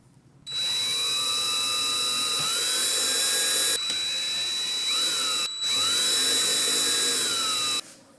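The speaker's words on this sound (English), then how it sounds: "We'll drill those out." A power drill bores out holes in a storm window frame with a loud, close, high whine. The motor runs in three long bursts, its pitch dipping and recovering as the bit bites, with brief pauses between runs.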